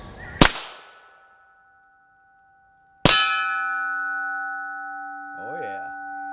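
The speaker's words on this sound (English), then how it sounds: "22 caliber, regular steel versus the wind chime" Two .22 caliber bullets strike a wind chime made from a CO2 tank, each impact a sharp, loud bell-like clang. The second rings on with a long sustained tone while a voice murmurs faintly near the end.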